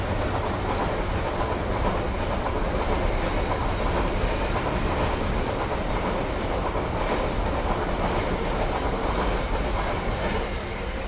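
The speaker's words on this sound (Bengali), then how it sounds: "বড় ট্রেন।" A big train rolls past nearby, making a loud, steady rumble and rattle that fills the whole stretch without fading and with no talking.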